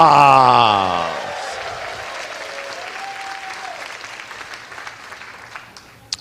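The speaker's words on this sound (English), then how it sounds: "Hey, give him a round of applause." An audience claps for a seminar participant, a loud burst of applause at the start that thins into scattered clapping, with a tonal voice-like sound early on and a sharp clap at the end.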